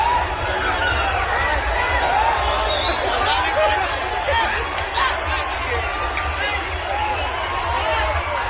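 A huge crowd packs a kilometre-long road show in Narkatiaganj, a dense, continuous roar of chatter and shouting that holds steady throughout with no single voice standing out.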